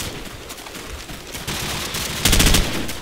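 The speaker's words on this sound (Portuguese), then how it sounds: "Caralho, tá indo. É o tiro." Rapid bursts of gunfire in Call of Duty 4: Modern Warfare crackle continuously, growing louder toward the end, with no voices over them.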